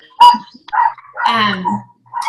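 A dog barks over a phone conference line: a few sharp, fairly loud barks and yips in quick succession, with short pauses between them.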